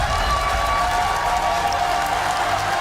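A large crowd applauds and cheers at the Apex Legends ALGS esports finals stage, sustained dense clapping with raised voices filling the arena, loud and continuous for the whole stretch.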